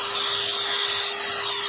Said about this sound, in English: I'm gonna clean up the threads on that bolt with this little wire wheel on a drill